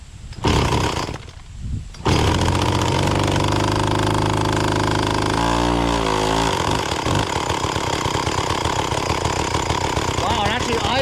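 An Echo CS-400 40cc commercial gas chainsaw with a seized centrifugal clutch starts up and then idles loudly and steadily, with a harsh, buzzing two-stroke drone that briefly wavers in pitch.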